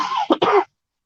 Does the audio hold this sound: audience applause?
no